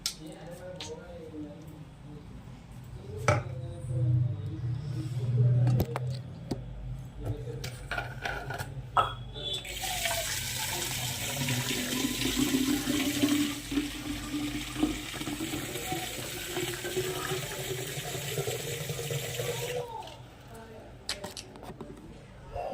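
Water pours into a tank as part of a prank, a steady rushing gush for about ten seconds midway, preceded by handling knocks and faint murmuring voices.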